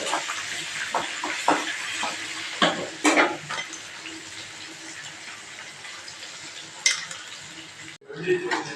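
Green chili and onion frying in a pan for mango fried rice, a steady close sizzle with stirring clatter and a few sharp knocks of utensil on pan.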